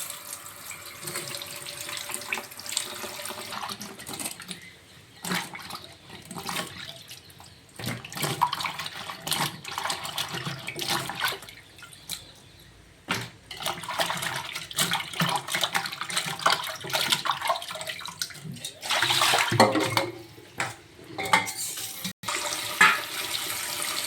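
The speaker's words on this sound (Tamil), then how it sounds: "அதுக்கு வெண்டைக்காயை க்ளீன் பண்ணிக்கலாம்." Okra (ladies finger) rinsed under running tap water, a steady gushing stream broken by splashes and handling noise as the pods are rubbed clean, with short pauses where the flow stops.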